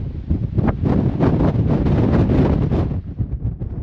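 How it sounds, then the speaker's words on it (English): Strong wind on the summit of Montenegro's highest mountain, buffeting the microphone in a loud, continuous roar with gusting swells and no pauses. "Oh my god, it is crazy windy."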